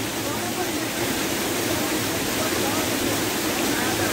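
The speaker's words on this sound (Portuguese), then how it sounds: "natural, aqui é natural, viu gente, cachoeira." A natural waterfall at Lago Azul in Rio Grande do Norte roars as a steady, dense wash of falling water, loud and continuous from start to finish.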